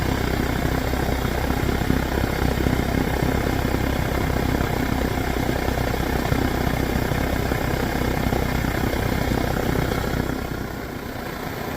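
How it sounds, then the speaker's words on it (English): A steady, loud roar of a vintage Primus blowtorch burning continuously, dense and unbroken, easing slightly near the end. "There's that Primus roar. There's a jet engine that could."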